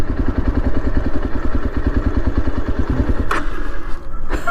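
A 2024 Yezdi Adventure motorcycle rolls in first gear with no throttle, its engine thumping in a steady low rhythm up close, with a brief clatter near the end.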